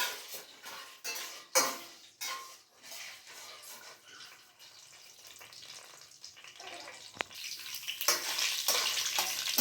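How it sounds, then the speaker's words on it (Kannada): Urad dal lentils and peanuts sizzle in hot oil in a pan as a tempering for tomato rice, a steady close crackle with occasional clinks of a spoon against the pan and no voices. "ಒಂದು ಸ್ವಲ್ಪ ಫ್ರೈ ಮಾಡ್ತಿದ್ದಾರೆ"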